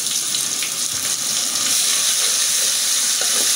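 Ginger, garlic and onion paste fries in hot oil for a spicy beef curry, giving a loud, steady sizzling hiss that runs without a break, with no voices over it.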